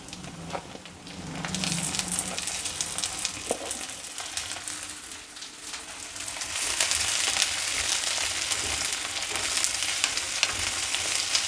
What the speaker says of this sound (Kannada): ಈಗ ಹಚ್ಚಿಟ್ಕೊಂಡಿರೋ ಬದನೆಕಾಯಿ ಸೇರಿಸ್ತಾ ಇದ್ದೀನಿ